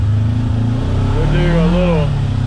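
A Segway UT10 side-by-side with an MSC engine tune runs in low gear, its engine loud and close with a steady drone whose pitch rises and wavers briefly as it pulls.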